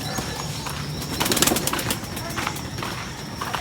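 Racing pigeons circle overhead with a flurry of wing flaps and faint cooing, the busiest burst of flapping coming partway through, while someone talks over it nearby.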